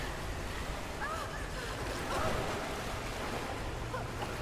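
Water surging and rising around the player character in Rise of the Tomb Raider, a steady broadband wash of rushing water with small splashes, continuous and fairly close throughout.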